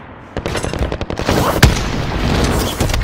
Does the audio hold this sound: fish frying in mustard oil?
no